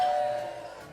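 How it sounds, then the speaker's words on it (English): A household doorbell rings during an online tabletop game session, giving a single clear chime tone that fades over a steady background hum. "Is that someone's doorbell or is that the effect sound?"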